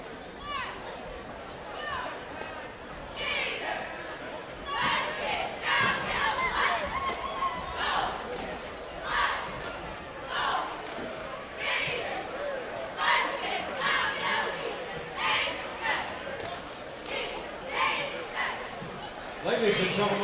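A cheer squad at a high school boys' basketball game in a gym chants and shouts in loud rhythmic bursts over crowd noise, with thumps and stomps recurring throughout.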